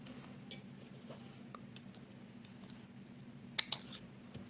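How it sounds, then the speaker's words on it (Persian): Scissors snip two strands of yarn while a crocheted bag is made. A few faint, quick clicks stand over a steady low hum, with no talk. "خب من الان میام این دوتا رو قیچی میکنم"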